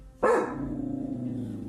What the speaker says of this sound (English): Alpha Ocean's footage begins abruptly with her dog barking into the darkness.